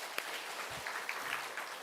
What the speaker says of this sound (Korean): 우리 하나님께 영광의 박수 드리며 마치겠습니다